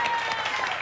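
A television game show studio audience applauds, a dense, steady burst of clapping that fills the short moment at full volume.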